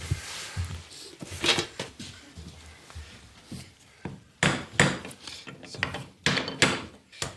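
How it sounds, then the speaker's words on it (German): A wooden peg being hammered into a wooden construction kit, a series of sharp irregular knocks and taps at close range, with quiet voices in between. "Schlagen wir jetzt hier nicht den Zapfen ein."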